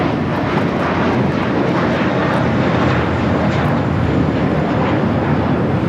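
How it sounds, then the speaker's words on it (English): An American Airlines A321 airliner takes off from Los Angeles LAX bound for Dallas-Fort Worth, its engines roaring in a loud, steady, broadband wall of jet noise that holds constant throughout. "1657 taking off to Dallas-Fort Worth on the A321"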